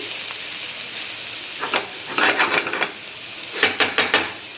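Aloo anda, potatoes and eggs, cooking in oil in a pan, a steady close sizzle broken by several clattering bursts of utensil stirring and scraping against the pan, no talking.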